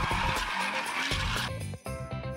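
Motorized, battery-powered ice bumper cars steered by joysticks glide across an ice rink, with squeals and scraping, bursts of motor whine and a changing rumble at close range.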